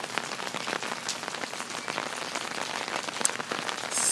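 Rain falls in a steady dense patter on surfaces, close and even throughout, with scattered sharper drops and no voices.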